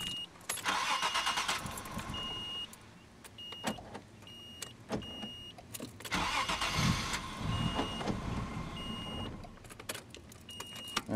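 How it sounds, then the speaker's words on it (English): A 1995–1999 Nissan Maxima with its 15 amp fuel pump fuse pulled cranks and starts briefly before dying, heard twice in a row inside the car, with clicks and key sounds between attempts. "Pull out 15 amp fuel pump fuse, and then try to start the car. Just start it for a second and then die."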